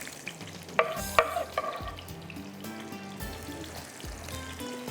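Sliced onion hits hot oil in a pan for saag qeema, sputtering and sizzling close up with a couple of sharp clinks and stirring scrapes, quiet overall with no voices.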